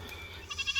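A goat left behind by its herd on brushy property gives a short, fairly faint wavering bleat at a distance, with light outdoor background noise and no talking.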